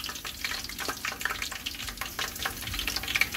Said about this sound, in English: these are some pimento and some whole black pepper, and I'm throwing them there in the oil